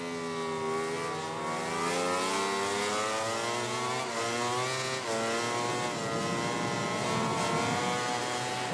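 A motorcycle engine in MotoGP 19 during a desert race: a loud, continuous high-revving whine that climbs and drops through gear changes, with other bikes faintly nearby.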